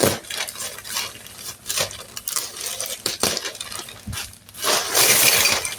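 Scissors snip and slice through the plastic wrapping of a delivered parcel holding winter clothing, with scattered sharp clicks, rustles and crinkles close by, with no talking.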